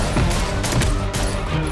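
Rapid bursts of gunfire in a John Wick 2 film scene, several sharp shots in quick succession over a dense mixed soundtrack.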